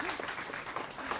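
An audience claps in applause after a talk at a parents' collaboration meeting in Grafarvogur, a steady, dense patter of many hands filling the short moment at moderate loudness.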